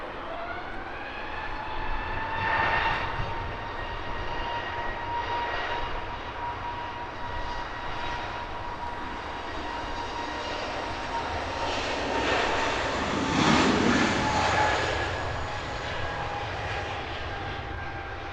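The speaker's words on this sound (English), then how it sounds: "Saudi stretch Dreamliner in the background." Saudi Boeing 787-10 Dreamliner departing Heathrow for Jeddah, a steady distant jet engine drone with a sustained whine that swells gently and stays in the background.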